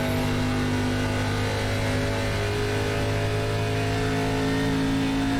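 A NASCAR ARCA Series stock car engine in the iRacing simulator at Kentucky Speedway drones at a steady, loud, sustained pitch throughout, close and alone without talk.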